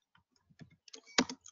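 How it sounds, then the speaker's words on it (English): Typing on a computer keyboard during an online session, a handful of soft irregular key clicks close by, ending in a slightly louder cluster of keystrokes in a quiet room. "Okay, I'm typing."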